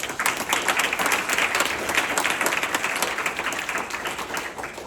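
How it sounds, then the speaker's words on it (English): An audience gives reading room staff another round of applause at a university ceremony honoring Kenneth Chamberlain Sr.; sustained, even clapping from a sizable crowd holds steady throughout. "So I just want to give them another round of applause."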